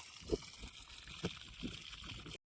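Water from a filled pot poured onto a tree at a tribal Nag Panchami ritual outdoors, faint trickling and gurgling with a few soft splashes over about two seconds before cutting off.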